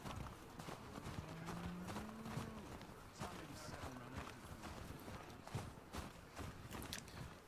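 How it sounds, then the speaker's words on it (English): Faint horse hooves clip-clop in an uneven walking rhythm, with a brief murmur of voices early on, in the video game The Last of Us Part II. "Horses! Oh, getting our noble steeds."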